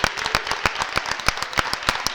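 Handball crowd applauding in a sports hall, sharp individual claps ringing out in a steady, fairly loud patter with no talk over it.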